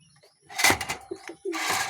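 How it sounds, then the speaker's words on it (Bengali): A pair of black Sirazi pigeons gives short, separate coos in brief bursts over about two seconds, near and fairly clear against a quiet background. "এই হচ্ছে সিরাজি কবুতর।"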